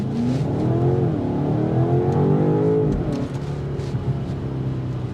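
A 617-horsepower S68 engine in a 2025 BMW X5 M Competition accelerates hard, its loud, steady roar climbing in pitch through the gears before easing slightly near the end, with no talking.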